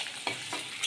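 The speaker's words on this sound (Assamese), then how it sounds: "পিঁয়াজখিনি অলপ ৰঙচুৱা হোৱালৈকে ফ্ৰাই কৰিম" Chopped onions frying in a pan until lightly browned, giving a brief close hiss of sizzling with a few soft stirring scrapes.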